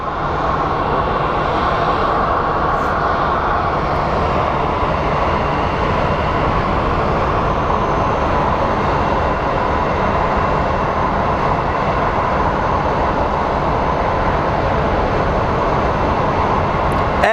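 An American Airlines Boeing 767 jet at Phoenix Sky Harbor airport gives off a steady, loud, broadband engine roar that holds constant throughout, with no voices over it.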